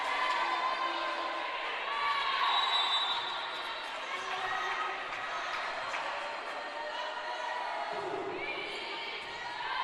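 Spectators at a college volleyball match in a gym cheer in a steady, roaring swell that rises and eases, while a commentator talks over the noise.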